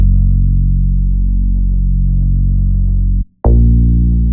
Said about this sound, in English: what I did with the bass, because by default the bass sounds like this